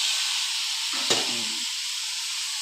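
Boiled cauliflower florets go into a hot pan of oil and sizzle with a steady, bright hiss. A short clatter marks the moment they drop in.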